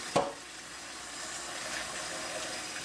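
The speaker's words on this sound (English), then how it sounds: "Let me run the hot tap again." Hot water runs steadily from a kitchen tap at close range, a continuous soft hiss and splash after a brief knock at the start.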